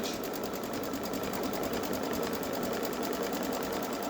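Baby Lock Solaris embroidery machine stitching a dove's eye in a dense, even, continuous mechanical whir with rapid regular needle ticking, close and steady throughout with no voices.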